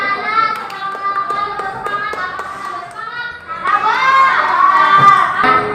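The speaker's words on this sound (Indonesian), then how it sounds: "Oke, beri tepuk tangan buat kita semua." Children in a classroom clapping their hands in quick irregular taps, mixed with young voices talking and a teacher speaking over them.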